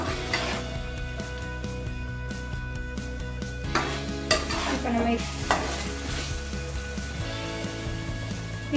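Andhra style pepper chicken stirs and fries in a pan, with a continuous close sizzle and scraping spoon strokes against the metal, plus a few louder clinks, and no voices.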